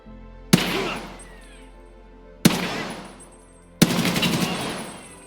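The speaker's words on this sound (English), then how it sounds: "I shot his toes until he dropped." Gunfire in Escape from Tarkov: three sharp, loud bursts of automatic shots at roughly two-second gaps, each ringing out with a long reverberant tail, the last burst fuller and rattling longer, with no talking.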